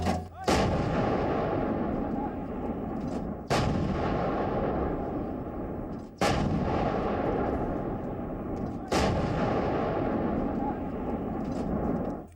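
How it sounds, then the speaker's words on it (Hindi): Bofors artillery gun firing in Ladakh: four deep, booming shots spaced about three seconds apart, each followed by a long rumbling decay, very loud and close. "ये दुश्मनों का काल बोफोर्स है।"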